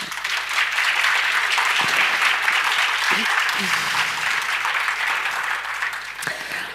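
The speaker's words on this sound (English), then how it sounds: "A round of applause for them, ladies and gentlemen." Audience applause following a dance performance at a talk event, a dense, steady wash of clapping sustained throughout with a few faint voices underneath.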